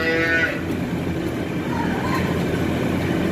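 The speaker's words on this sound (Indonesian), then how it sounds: "Ini sapinya juga agak bandel sih, nggak mau masuk." A stubborn cow lows in a barn, one drawn-out moo near the start, then a fainter call later over a steady rumble of background noise.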